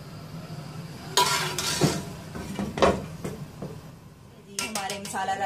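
Masala rice, a spiced vegetable rice, being served from a cooking pot into a dish, with scraping and clinking of a spoon against metal and dishware in scattered bursts, close by with low background hum.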